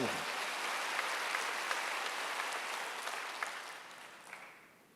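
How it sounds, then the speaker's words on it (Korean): Steady applause from a church congregation during a Wednesday worship service, a dense even patter of many hands that holds for several seconds and then tapers off toward the end. "박수"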